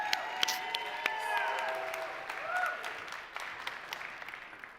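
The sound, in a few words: audience applauding and cheering for the next team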